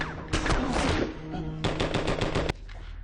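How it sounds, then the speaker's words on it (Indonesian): Gunfire in the action film Tactical: two rapid bursts of loud, sharp shots, the first run of cracks followed by a short lull, then a second quick volley ending on a final bang. "Strato sudah menyiapkan pistol dan langsung menembak Blanco"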